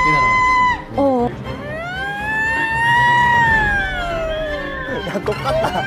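A loud, close fire truck siren wails, its pitch sweeping up and down in long rising and falling arcs, with brief breaks near the start.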